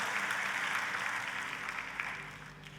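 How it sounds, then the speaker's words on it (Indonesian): A church congregation claps and cheers in praise, a broad, sustained round of applause that fills the room and slowly tapers off. "Tepuk tangannya pula yang paling meriah buat Tuhan kita."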